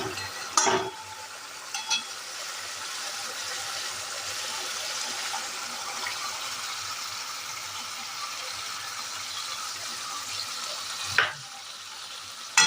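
Curd paste being stirred into boiled pointed gourd in a pan for a vegetarian doi potol curry, giving a steady soft sizzle with scraping stir sounds and a few sharp knocks of the spoon against the pan.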